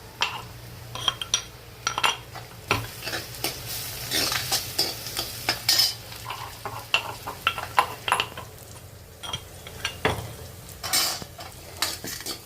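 Onion, cumin and garlic frying in oil for a mung bean curry, with a soft sizzle under frequent clinks and scrapes of a spoon stirring in the pan, close and fairly quiet.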